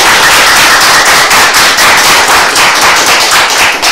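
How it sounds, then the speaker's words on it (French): Loud, dense applause from a studio audience on a French television business show set, steady sustained clapping filling the whole stretch with no talk over it. "On applaudit très très fort."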